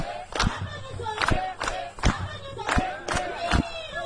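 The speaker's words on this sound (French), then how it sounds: "nous allons applaudir très très fortement pour notre responsable" A crowd at a thanksgiving celebration in Dakar claps in slow, heavy unison beats roughly every half second while voices cheer and shout. Loud and close.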